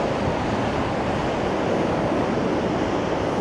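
Storm Lilian drives a dense, steady roar of wind and crashing surf along Blackpool seafront, loud and unbroken throughout with no voices.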